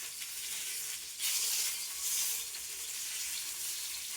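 Oil heating on a hot iron griddle before pitha batter goes on gives a steady, fairly loud sizzle and hiss that swells briefly, with no talking.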